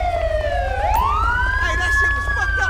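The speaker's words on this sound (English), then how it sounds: "I'm gonna turn my siren off real quick." Police car siren in the video game GTA V wails loudly and continuously, sweeping down and then back up in pitch over a steady low rumble.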